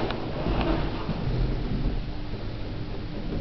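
A 1906 Stigler single-speed traction elevator car arrives in a closed shaft of an old Copenhagen building, heard as a steady mechanical rumble and rattling hum with a few faint knocks, continuous and moderately loud.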